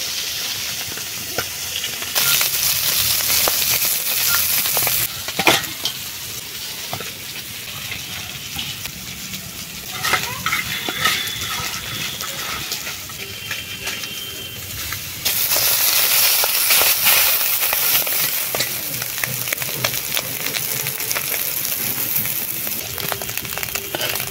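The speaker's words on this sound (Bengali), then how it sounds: "মাছ ভাজতে ভাজতে এদিকে আমি তেঁতুল চটকাচ্ছি" Fish frying in hot oil with a continuous hissing sizzle that swells louder in stretches, broken by occasional clinks and scrapes nearby; no speech.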